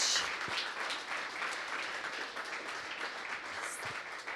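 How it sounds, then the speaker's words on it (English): Audience applause after a presentation at a product marketing event, a steady wash of many hands clapping, moderately loud and even throughout with no one talking over it. "let's give it a round of applause for Burke"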